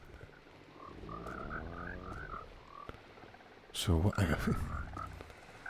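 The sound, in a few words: frogs croaking in the video game The Vale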